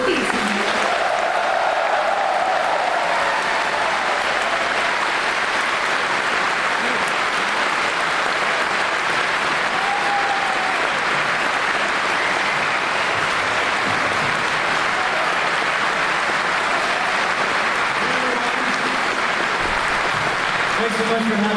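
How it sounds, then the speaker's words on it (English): A convention audience cheers and applauds without pause, a dense, loud wash of clapping and crowd noise filling the whole stretch. "please another loud and welcoming cheer for Jason and Jocelyn Thiessen"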